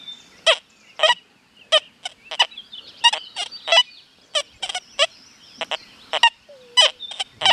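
XP Deus 2 metal detector in speed 3 sounding rapid, choppy bursts of signal tones in quick clusters as the coil passes over a nail and a nickel, with no talk.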